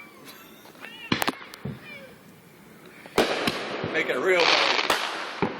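Fireworks going off outdoors near a tree, sharp cracking bangs scattered through the stretch, then a louder burst of rapid crackling and whistling, with people talking and exclaiming over it.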